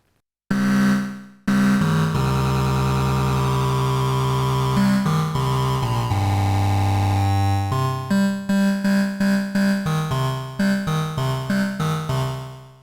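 A Roland Alpha Juno 2 synthesizer from the 1980s plays bright, sustained harmonic oscillator tones with no effects, long held chords giving way to a quick run of short stabbed notes.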